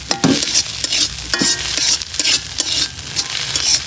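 Pumpkin bhaji being stirred and fried in a pan, a steady sizzle with repeated scraping strokes of the spoon throughout, close and fairly loud with no talk.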